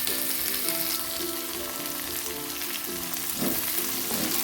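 Chili sizzles and fries in a pan with spices for an oncom, kecombrang and petai stir-fry, with a steady close crackle broken by repeated scraping stirs and no talking.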